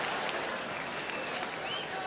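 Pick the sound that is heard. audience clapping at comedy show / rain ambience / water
audience clapping at comedy show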